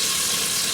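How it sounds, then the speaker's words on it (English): Butter melting and sizzling in a pot on the stove while making potato soup, a loud, steady hiss of frying fat, brief and close with no talking. "Can you hear it sizzling?"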